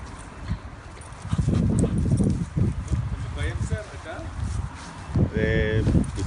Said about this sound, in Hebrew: גאוס זה כלב ציד, אתם רואים?